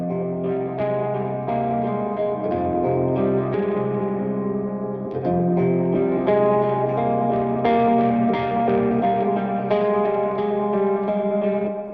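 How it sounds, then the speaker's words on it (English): Clean ambient electric guitar chords run through stock Logic plugins with flanger, echo and reverb, ringing sustained notes layered in a steady, shimmering wash with a slight hint of breakup, no talking. "here's what these clean tones or ambient tones sound like"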